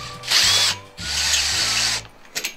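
A HiKOKI DV12DD driver drill loosens a screw with two high, whining motor bursts close by, followed by a couple of brief blips.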